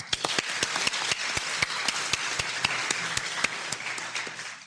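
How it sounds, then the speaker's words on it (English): Applause for a group of high school students at a community event, a sparse round of individual claps with distinct sharp hand strikes over a softer wash of clapping, steady throughout. "a round of applause for our Twin Oaks High School"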